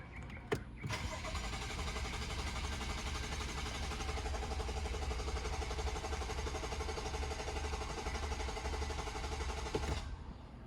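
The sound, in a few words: BMW F10 N55 engine cranking without starting, oil priming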